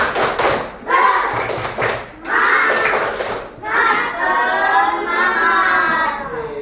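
Children in a coding class doing rhythmic 'tepuk semangat' chant-clapping, several bursts of patterned claps and taps mixed with chanting young voices, near and loud.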